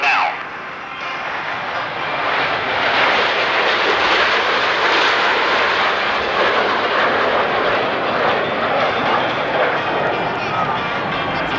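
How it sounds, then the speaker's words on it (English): Canadian Snowbirds jets flying in formation during a 1990 airshow at Westover AFB, a steady broad roar of engines overhead that swells and holds, with an announcer talking over it. "Watch as those 4 aircraft now roll simultaneously in the Fillion roll."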